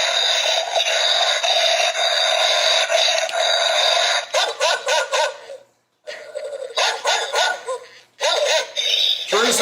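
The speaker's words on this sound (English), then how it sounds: "My skeleton dog." A Halloween skeleton dog toy barking, repeated electronic yips and barks in bursts, loud and close, with short pauses between them and people talking around it.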